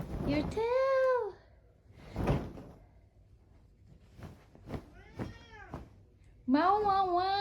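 An elderly 16-year-old cat meows several times at close range, long drawn-out calls at the start and end with quieter short chirps between, mixed with brief indoor voices.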